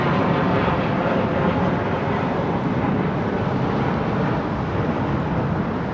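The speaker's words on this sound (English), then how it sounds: "Is this our Uzbekistan 321 Neo, isn't it? Is this it now, rolling?" Uzbekistan Airways Airbus A321neo beginning its takeoff roll on the runway at London Heathrow, a steady, loud, broadband jet engine roar sustained throughout with slight wind buffeting and no talk.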